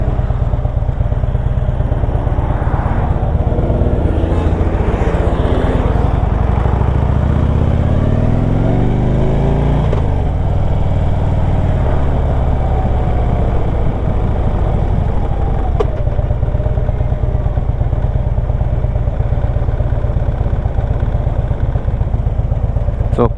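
A 2010 Harley-Davidson Electra Glide FLHTP motorcycle engine runs steadily throughout, a loud, close, low rumble with a few rising and falling revs over the idle.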